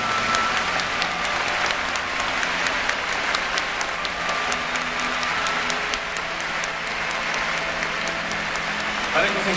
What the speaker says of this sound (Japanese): どうぞ大きな拍手をお送りください。